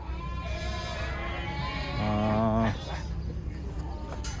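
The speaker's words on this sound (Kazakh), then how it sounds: "Әдемі, бағалған жақсы әдемі қойлар екен." A sheep at a livestock market in Kyzylorda bleats once, a loud nearby wavering call, amid faint background market noise and distant voices.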